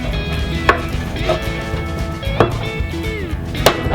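Hammer blows drive a beetle-kill blue stain pine shelf into a tight wooden dado, giving four sharp, loud knocks at irregular intervals over a steady humming background.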